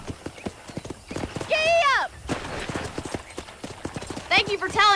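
A horse clip-clops at a quick, even pace in the Red Dead Redemption video game, its hoofbeats running throughout while a neigh cuts in twice and voices talk over the riding.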